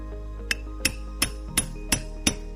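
Six evenly spaced metallic hammer taps drive a pin into a spray valve, ringing out one after another, sharp and close, with a faint steady hum beneath.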